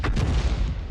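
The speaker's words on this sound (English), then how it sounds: "We fired a round into the corner." A tank cannon in a tank video game, apparently the GW Panther, fires a round with a heavy, deep boom at the very start. The rumble carries through the rest of the short moment.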